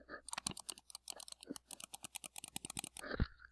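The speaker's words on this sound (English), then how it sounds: "That's the sound of me clicking." A computer mouse clicks rapidly and repeatedly during a laggy Roblox session, a dense close run of sharp clicks with no speech.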